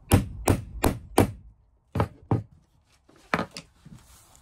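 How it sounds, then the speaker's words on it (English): Sharp hammer blows driving a part into a mould on a solid surface for a narrowboat pram hood: four quick strikes, a pause, then two more, followed by a few lighter taps. "put it on something solid again, and hammer it down."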